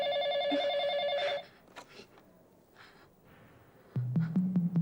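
A telephone rings in an indoor domestic scene, a steady electronic warble repeating for over a second, then after a quiet gap a few short sharp tones or clicks close by, with no one speaking over it.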